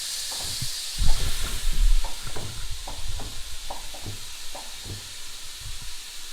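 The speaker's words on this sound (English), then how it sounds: "we're going to start stirring up the veg" Vegetables and diced ham being stirred in a pot for split pea soup, with a steady low sizzle and hiss under repeated soft scraping and clinking strokes of the spoon, close by.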